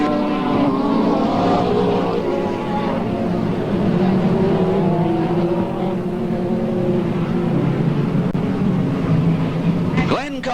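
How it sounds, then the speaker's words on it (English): Speedway cars race at Parramatta City Raceway, their engines roaring in a loud, continuous droning wash with rising and falling pitch, while an announcer talks over the noise throughout. "the speed cars are flying at PCR"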